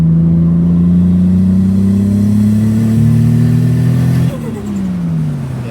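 A Toyota Supra engine revs steadily up toward about 5,000 RPM with a fault that makes it choke and chop there, a loud droning climb that abruptly cuts off and drops away.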